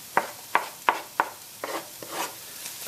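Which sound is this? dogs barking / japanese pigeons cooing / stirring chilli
stirring chilli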